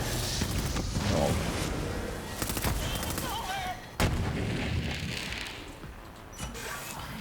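Enemy gunfire in the video game Borderlands 2, a dense, busy mix of shots and impacts that runs through the whole stretch at moderate loudness, with a sharp cut partway through.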